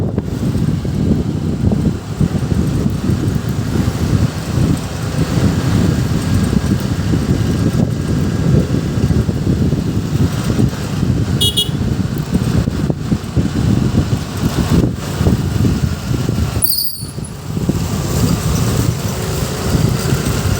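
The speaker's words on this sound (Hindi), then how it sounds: "ट्रैफिक देखो दोस्तों कितना लगा है।" Steady road traffic on a busy Indian street during Navratri, a continuous loud rumble of passing cars and engines with wind buffeting the microphone and brief clicks near the end.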